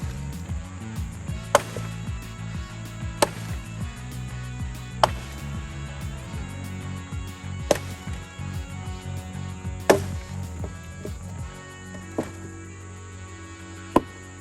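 An axe with a mirror-polished Connie head and red elm handle splits hard, seasoned red oak limbs outdoors: seven sharp, evenly spaced chops ring out over a constant hum of insects.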